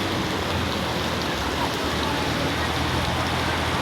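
Heavy rain pours down in a steady, dense roar that fills the whole scene evenly, as it would on a commute home from work.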